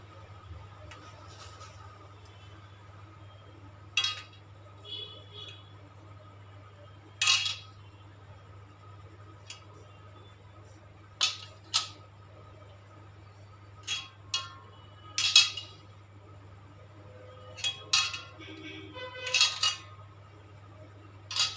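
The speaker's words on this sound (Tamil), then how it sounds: "இப்போ இந்த மாதிரி இதை கிராஸ் கிராஸாக கட் பண்ணிக்கலாம்" A knife cuts through wheat flour dough in a crisscross pattern, giving sharp, separate clicks and taps of the blade on a board at irregular intervals, quiet and close over a low steady hum.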